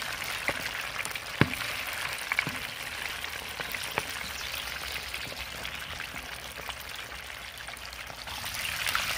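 Chicken pieces coated in Moss breader mix fry in a pan of hot oil, giving a quiet, steady sizzle with scattered sharp crackles and pops.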